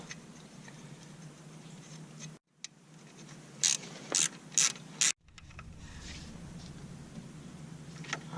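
A hand ratchet tightening the ABS wheel-speed sensor bolt on a Peugeot 106 / Citroën Saxo: four quick, crisp clicking strokes close by in a quiet workshop, with low background hum.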